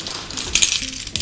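A bunch of keys, including the main door key for the building downstairs, jingles up close in a short burst of bright metallic shakes, with no one talking.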